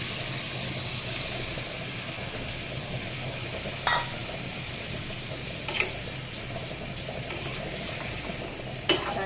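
A ground paste of sesame, mustard and cumin with a little salt goes into a hot pan for a vegetarian vegetable and moong dal dish, giving a steady, even sizzle broken by a few sharp utensil clicks.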